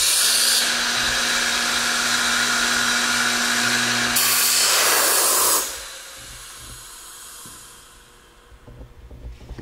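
A Grass Eco Press P hinge boring and insertion machine cycling, with a loud steady hiss and hum of running motor and air that cuts off abruptly and gives way to fainter mechanical rustle and clicks.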